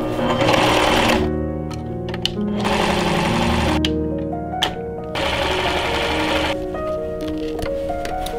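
A sewing machine stitches buttonholes on pirate pants in loud, rapid bursts of mechanical whirring, separated by short pauses and a couple of sharp clicks.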